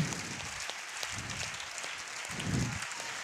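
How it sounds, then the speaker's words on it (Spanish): Quiet, steady applause from a seated audience at a Spanish corporate talk, a soft continuous patter of many hands heard from a distance with no break. "Un aplauso, lo he hecho muy bien."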